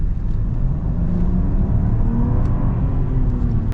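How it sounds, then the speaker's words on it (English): A 2022 Range Rover Sport HSE Silver Edition accelerates, its engine a steady, loud rumbling whir that climbs in pitch as it pulls through the gears, heard from inside or close by without talk. "Get our acceleration here in just a moment and see how this engine"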